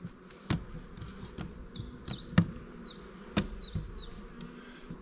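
Honey bees buzz around beehives as a constant close drone, broken by sharp knocks and taps from handling, with faint bird chirps repeating in the background.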